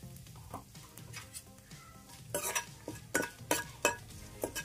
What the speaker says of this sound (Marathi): तेलामध्ये आता आपण ऍड करणार आहोत 4 काळी मिरी, थोडासा कढीपत्ता आणि तमालपत्र